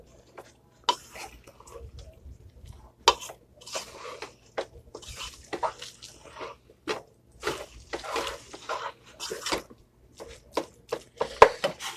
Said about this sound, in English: stirring that up really well